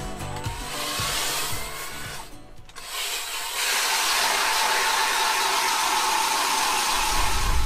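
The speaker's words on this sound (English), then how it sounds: "So we're gonna drill a hole in a little bit further down the bank." A powered ice auger drones steadily as it cuts a hole through lake ice near the weedy edge of a bank, a continuous loud motor whine with wind noise that briefly dips before rising and holding.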